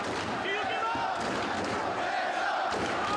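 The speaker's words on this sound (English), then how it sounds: "Listen to the crowd here in Manhattan." A wrestling arena crowd in Manhattan roars and cheers while a wrestler is held in a submission hold during a championship match, a dense, loud, sustained wash of voices with rising shouts and no clear breaks.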